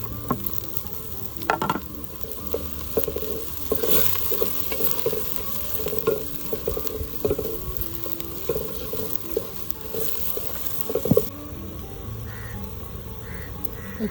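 Tomatoes with ginger-garlic-chili paste fry in a pan for a traditional Agri-style green pea, eggplant and potato dish, a steady sizzle with repeated scraping and clanking stirs; birds call faintly outdoors.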